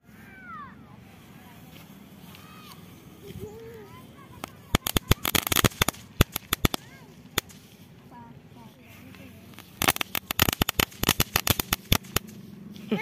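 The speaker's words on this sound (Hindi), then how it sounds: "बच्चे भी अभी इनके साथ पटाखे एंजॉय कर रहे हैं।" Firecrackers bursting during Diwali celebrations, a rapid crackling volley of sharp pops in two loud bursts, with children's voices and talk scattered around them.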